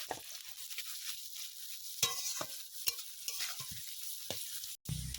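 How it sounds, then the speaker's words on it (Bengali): Onions frying in oil to make beresta, crisp fried onions for chicken biryani: a soft, steady sizzle with a few sharp stirring scrapes, fairly quiet and close, with no talking. "বেরেস্তার জন্য পেঁয়াজগুলো ভেজে নেবো"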